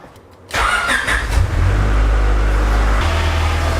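A Honda Civic EK4 VTi-R engine with solid engine mounts cranks and catches after a brief quiet moment, then settles into a steady, loud idle close by.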